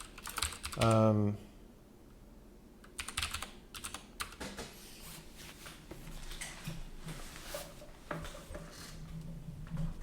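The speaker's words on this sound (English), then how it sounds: "So I don't have to keep typing it." Short burst of computer keyboard typing near the start, followed by scattered soft clicks and handling noises over a quiet room background while someone works at a computer.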